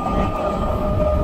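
A local train running on the Sealdah–Hasnabad line near Taki Road station, heard from on board or close by as a steady loud rumble with a sustained hum and rail noise throughout.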